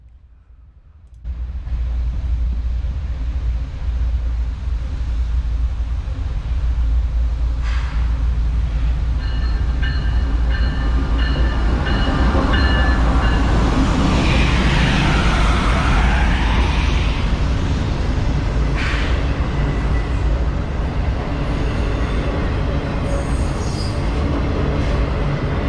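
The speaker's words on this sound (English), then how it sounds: "this is a train, a through train, coming through Nashville from South Carolina that winds up at the Osborne Yard in Louisville" A CSX through freight train, Q580, rolls past in Nashville, a loud continuous rumble of wheels and cars lasting the whole stretch, with a rising and falling squeal of wheels and occasional clanks; no voices.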